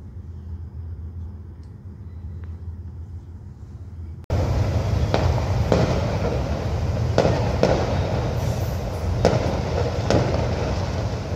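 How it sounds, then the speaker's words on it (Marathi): Firecrackers burst outside on New Year's Eve in a string of sharp cracks and bangs over a constant rumbling roar, starting abruptly after a quiet opening. "फटाके फोडतायत बघ बाहेर सगळेजण."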